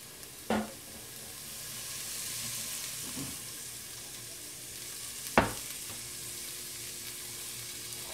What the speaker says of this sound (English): You want to hear that, all that sizzling.